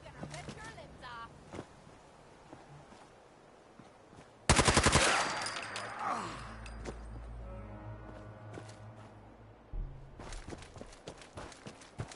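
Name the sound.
gunfire in the video game Fallout 4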